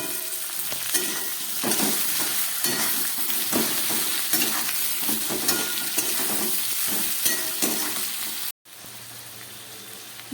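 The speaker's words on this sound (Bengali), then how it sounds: "সামান্য গ্রেট করা আদা দিয়ে ভালো করে সবজিগুলোকে আমি কষিয়ে নিলাম" Vegetables for Malabar spinach stir-fry with turmeric paste, coriander, chili powder, cumin, salt and grated ginger. They sizzle in a pan with repeated rhythmic scraping strokes of a spatula, close and steady, then cut briefly to a softer, even frying hiss.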